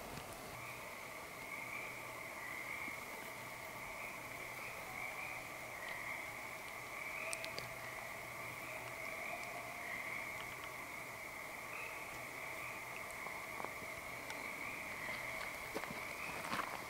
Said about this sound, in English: But the frogs stopped too, and now they started back up.